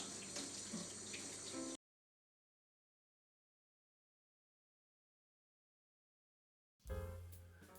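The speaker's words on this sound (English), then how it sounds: "we gotta wash our hands" Tap water runs for hand washing, a steady close rush at the start that cuts off abruptly into several seconds of dead silence before the flow returns loudly.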